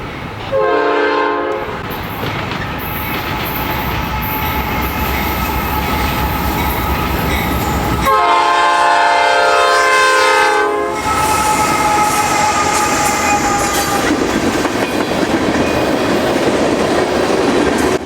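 A freight train of empty crude oil cars led by a Dash 9 locomotive rumbles past close by, its horn blaring in long blasts twice, with heavy rolling noise and clatter of cars continuing throughout.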